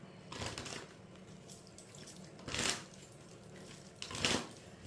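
Tarot cards riffle in three short shuffling bursts near 0.5, 2.6 and 4.3 seconds, each a crisp papery rush over a quiet room hum.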